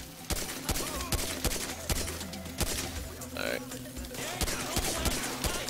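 Pistol gunfire in Grand Theft Auto V on Xbox 360: a steady string of sharp, closely spaced shots, fired irregularly with voices faintly underneath.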